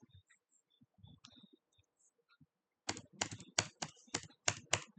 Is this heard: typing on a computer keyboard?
yes